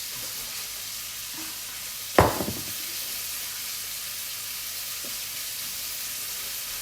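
Food seasoned with cumin cooking in a pan as a steady low sizzle, with one sharp spoon-and-pan stir clatter near the middle and a faint knock later; no one speaks.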